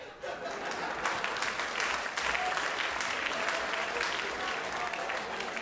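A comedy show audience at Juste pour rire 2012 bursts into steady, enthusiastic applause mixed with scattered chuckles and laughter, with a voice faintly audible beneath the clapping.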